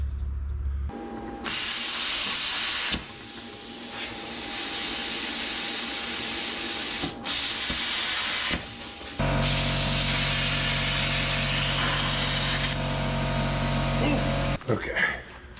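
A plasma cutter slicing a trailer template out of scrap metal, a loud steady hissing rush with a constant whine, cut by brief pauses and restarts, close by.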